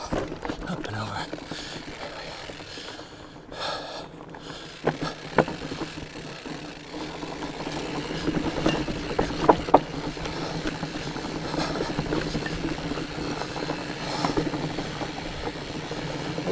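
Mountain bike rolling along a nature preserve trail, tires crunching over dirt with a steady ticking from the freewheel hub, continuous and moderately close, with occasional sharper knocks and clatters from the terrain.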